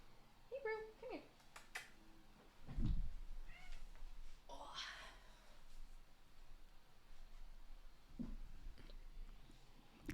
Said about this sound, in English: Oh, hey, we got a cat.